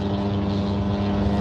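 A car engine with a buzzy, lawnmower-like drone heard from inside a vehicle on the road, a steady loud hum that holds throughout with no talking.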